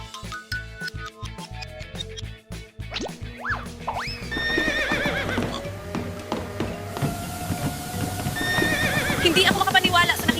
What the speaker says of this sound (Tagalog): Pinatayo mo ang kabayo sa treadmill?